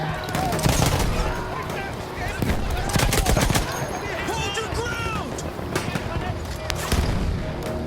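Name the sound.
gunfire in a war video game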